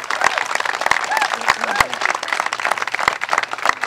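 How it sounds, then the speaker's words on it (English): Audience applause at a governor's briefing on Lake Ontario flooding, a dense spread of hand claps lasting about four seconds with some sharper individual claps standing out. "Let's give him a round of applause."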